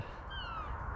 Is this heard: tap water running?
no